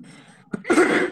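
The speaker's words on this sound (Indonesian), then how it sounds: "Batuk pula." A single sharp cough bursts out midway, followed by a louder, breathy rasp of throat noise, close to the mic, during a casual live chat about Quranic recitation.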